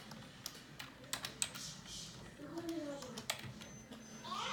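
Key clicks on a computer keyboard as a school district's website address is typed in, quiet irregular taps and short bursts up close with faint background sounds and no talking.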